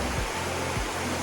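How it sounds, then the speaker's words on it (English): Steady, full-bodied rush of a waterfall in Georgia's Blue Ridge Mountains near Ellijay, a constant broadband roar with a few low thumps, no voices. "look at this waterfall"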